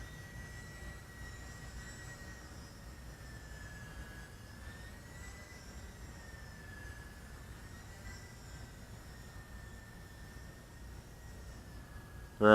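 An E-Flight Aero Commander twin-engine RC model airplane flies with a steady, wavering electric whine that holds for the whole stretch at moderate distance, ending in a short loud thump.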